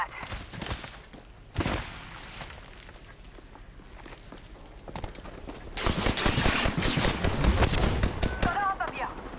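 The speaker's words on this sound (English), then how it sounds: "Getting shot at." Gunfire in the Apex Legends video game comes as sharp, scattered shots and a denser volley of bursts toward the end, mixed with other game effects and some talk.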